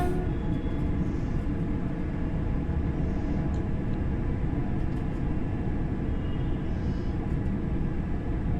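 An LNER Class 801/2 train runs at high speed, near 110 mph, along the East Coast Main Line in Train Sim World 4. A steady, loud low rumble and rolling drone continues without a break, with faint higher whines drifting over it.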